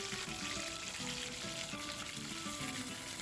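Fenugreek seeds, garlic, ginger and slit green chillies sizzle in hot oil for a sardine chilli curry, making a loud, continuous, dense crackling hiss close to the pan.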